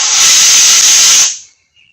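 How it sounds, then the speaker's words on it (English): Gas vents hard from the tank of a Solar 5101 A/C recovery machine during high-pressure hose work on a 2009 Buick Enclave: a loud, steady, close hiss that cuts off abruptly after about a second and a quarter. "We can vent some gases out of the tank on the machine."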